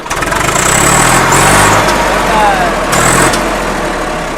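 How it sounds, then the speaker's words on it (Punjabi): A tractor engine turns over and settles into a loud, rumbling run close by, with voices briefly heard over the noise. "ਕਿਉਂ ਕਰਾਂ ਸਟਾਰਟ ਯਾ ਕੋਈ ਫਕਾਰਾ ਦੇਖੋ ਕਰਾ ਟਰੈਕਟਰ ਦਾ"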